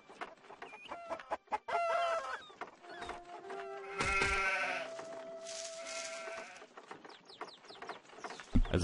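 Sheep and fowl calls in the video game Anno 1503: repeated bleats mixed with clucking and crowing, layered over game ambience and music, moderately loud with a sharper call near the end.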